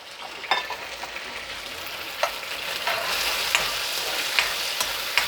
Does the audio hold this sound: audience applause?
no